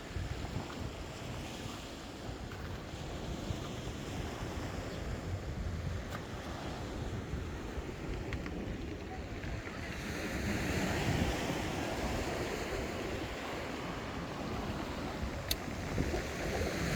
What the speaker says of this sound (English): You can hear the sound of that sea.